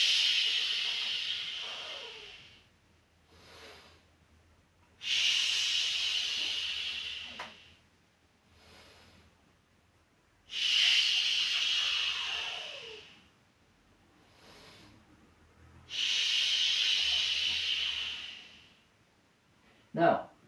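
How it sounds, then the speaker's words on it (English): Forceful double breathing exercise during a neck-strengthening routine: three loud, hissing breath bursts of about two seconds each, evenly spaced, with quieter breaths and faint movement in between. "So double breath again."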